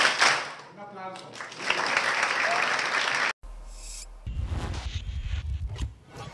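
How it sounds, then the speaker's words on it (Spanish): A school audience gives a burst of applause, dense clapping swelling for a few seconds before an abrupt cut to a quieter scene with low rumble and scattered sounds. "Un aplauso."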